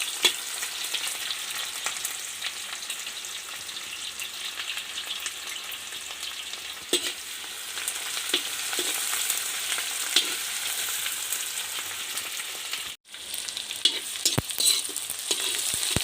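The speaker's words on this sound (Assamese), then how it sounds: "পিঁয়াজ আদা নহৰু পেষ্টখিনি অকণমান ভাজি ল'ব লাগিব ভালকৈ।" Onion, ginger and garlic paste fries in hot oil for an Assamese-style duck curry, giving a steady, close, dense sizzle that runs throughout with only a brief dip near the end and no talking.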